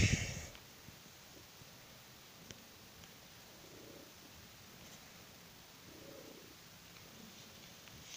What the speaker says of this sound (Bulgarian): нека да погалим нашата котка и почешем по корема